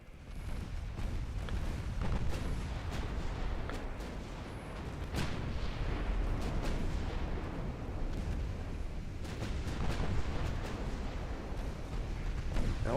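Naval guns firing in the warship game Ultimate Admiral Dreadnoughts, a dense, continuous rumble of booming artillery and explosions with no clear gaps, steady and loud throughout.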